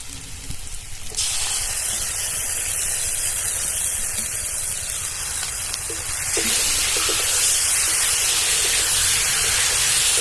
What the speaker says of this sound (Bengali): এবার এর মধ্যে আমি হলুদের গুঁড়ো দিচ্ছি পরিমাণ মতো, লঙ্কার গুঁড়ো 1/2 চামচ, আর এই বেটে রাখা পেস্টটা দিয়ে দিলাম।